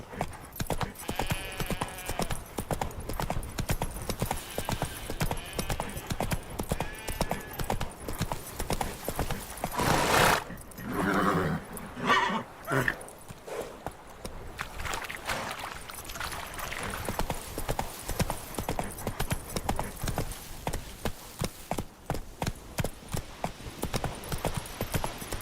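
Horse hooves clip-clop at a steady trot in The Witcher 3 video game, the rhythm continuing over about twenty-five seconds with a brief break for a whinny and other game sounds midway.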